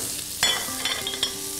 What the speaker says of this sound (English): Get things sizzling again.